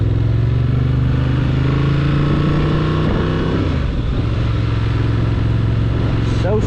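A Honda Transalp motorcycle accelerating through the gears at a steady, gentle pace, its engine note rising and dropping with each shift under continuous wind roar, heard from the rider's position.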